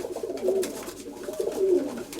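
A pigeon coos close by, a sturdy bird with twelve tail feathers, giving two low, rounded coos in about two seconds over faint background hiss.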